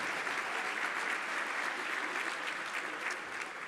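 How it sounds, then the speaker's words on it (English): A breakfast-event audience gives a steady, continuous round of applause for performing arts members, a dense even wash of clapping heard moderately far off throughout. "Let's hear another round of applause for the performing arts members"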